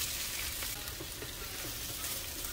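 Garlic and onion fry in a pan for a Guatemalan jocon sauce, giving a steady, soft, close sizzle with a faint crackle that runs without pause.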